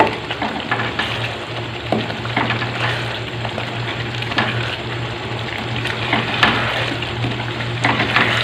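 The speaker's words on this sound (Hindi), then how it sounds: "अब हम इसको अच्छी तरह भून लेंगे जब तक हमारा पानी खुश्क नहीं हो जाता।" Mutton karahi with tomatoes fries steadily in a pan, a dense and continuous close sizzle with faint stirring scrapes and no voices.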